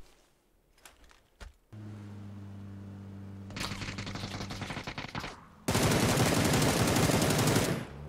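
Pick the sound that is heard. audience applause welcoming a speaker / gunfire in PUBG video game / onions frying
gunfire in PUBG video game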